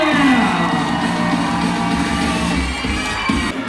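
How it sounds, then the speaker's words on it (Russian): A hall audience at a university beauty pageant breaks into loud applause and cheering, a dense roar of clapping and whoops that holds steady and then eases slightly toward the end. "наших девушек это самые громкие аплодисменты!"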